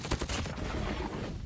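A gun in Call of Duty Mobile fires a rapid automatic burst, a dense rattling volley that stays loud and close for the whole short moment.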